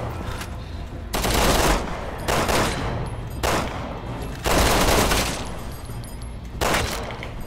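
Repeated bursts of rapid gunfire in Resident Evil 6, each lasting about a second, loud and close, separated by brief quieter gaps.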